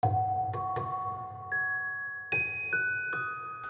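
A sampled celesta from the Mallet Flux Kontakt library plays a short melody of about eight bell-like notes, with clear strikes, ringing sustain and a soft low chordal undertone.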